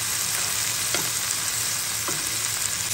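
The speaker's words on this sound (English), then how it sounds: "so I'm going to let it sizzle." Chicken pieces sizzle steadily in a hot frying pan, a continuous close crackle with a couple of faint scraping stirs, no talking.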